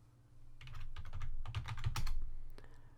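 Quick bursts of keystrokes tap on a computer keyboard, close and fairly faint, in an irregular rhythm over about two seconds with no talking.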